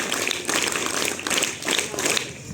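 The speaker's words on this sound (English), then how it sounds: "Scout clap goes." Assembly audience performs a scout clap, a burst of rhythmic hand claps in a few grouped waves from a crowd, moderately loud and fairly close, with no voices over it.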